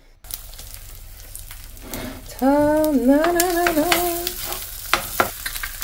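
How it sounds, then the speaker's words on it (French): Eggs frying in butter in a pan give a steady, close sizzle throughout, with a short hummed, gliding tone rising above it midway. "On va faire les œufs au plat"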